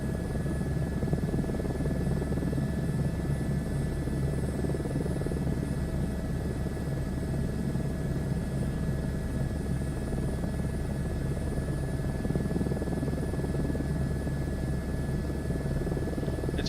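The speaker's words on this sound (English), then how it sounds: "I like flying this helicopter." A medevac helicopter flying in Microsoft Flight Simulator 2024, a constant close rotor drone with a steady buzz and whine that stays level throughout.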